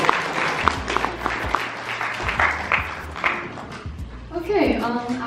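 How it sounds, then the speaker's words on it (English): A hackathon audience claps in dense applause that fades toward the end, with a voice speaking over it. "Let's give a really big round of applause for the last folks here"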